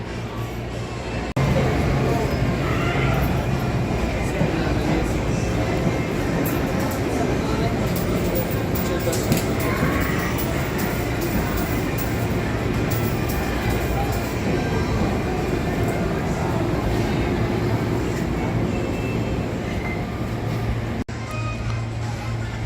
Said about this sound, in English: That SEPTA train's gonna leave.